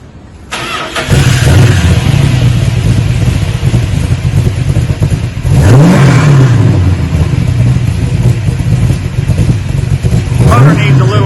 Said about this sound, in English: It's got a Chrysler 340 motor in it. Not really the true Studebaker, but it's going to give it some rumble.